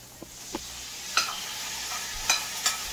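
Kapahari dropped into masala frying in a karahi, giving a steady sizzle with a few sharp spits and pops scattered through it, close and with no talk.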